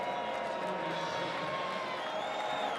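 A college football stadium crowd in an Arizona vs Colorado game roars as a dense, steady wash of distant voices and cheering, sustained without a break.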